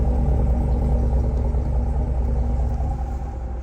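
A 2024 Chevrolet Silverado 1500 LTZ's 6.2-liter V8 idling, a steady deep low rumble, close and even, with no speech.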